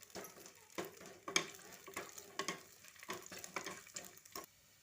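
Chopped garlic and fenugreek seeds frying in sesame oil in a pan give off a soft, close sizzle broken by irregular stirring scrapes and crackles, with no talk.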